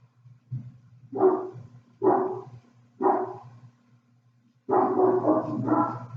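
Dogs bark in four separate bursts, loud and close. The first three are single barks about a second apart, and after a pause comes a longer volley of overlapping barks, with a low background hum throughout.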